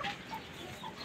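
Chickens cluck softly in a backyard chicken coop, a brief, faint burst of fowl calls heard from a short distance with no talking.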